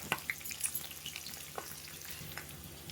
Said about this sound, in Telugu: ఈ పచ్చిమిర్చి బాగా ఫ్రై అయ్యే వరకు ఫ్రై చేసుకోవాలి